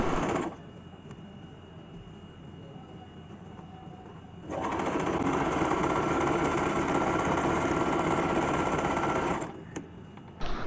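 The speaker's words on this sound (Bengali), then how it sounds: "এই ভাঁজ থেকে কিনার দিয়ে একটা সেলাই বসিয়ে দিব" Electric sewing machine stitching along a folded fabric strip at a neckline, running first as a softer steady whir, then as a louder, faster continuous hum for about five seconds before stopping, close and alone.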